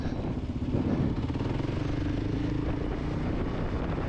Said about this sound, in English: if you want to get a KLR, they're great bikes